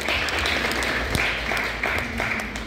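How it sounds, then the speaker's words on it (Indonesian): Applause from a church congregation at a Christmas service, a steady dense patter of clapping that holds fairly evenly throughout with a few sharper claps standing out. "Kasih tepuk tangan kepada Dia."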